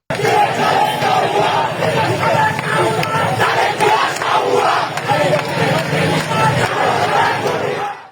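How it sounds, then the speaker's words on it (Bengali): A crowd of students on a march chants a political slogan in unison, loud and rhythmic, with voices surging in repeated waves for the full stretch before ending abruptly. "সেখানেও যে রাজনৈতিক স্লোগান দেওয়া হয়েছিল সেটি একবার শুনুন।"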